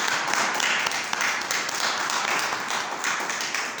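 Church congregation applauding together, a dense steady wash of clapping that stays loud and even throughout with no voices on top.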